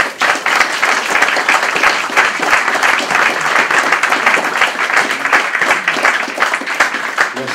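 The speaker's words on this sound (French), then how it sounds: "Je vous invite à l'applaudir s'il vous plaît." An audience at a conference in Nice applauds in tribute, a dense, steady wash of many hands clapping that stays loud and even for the whole stretch.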